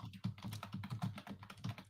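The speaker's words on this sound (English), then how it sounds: "typing a fucking thesis" Rapid typing on a computer keyboard sounds as a quick, uneven run of close clicks and taps with no talk over it.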